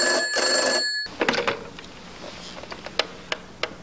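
An old telephone bell in a radio drama play rings in one steady burst, then stops, followed by a few faint clicks and handling taps.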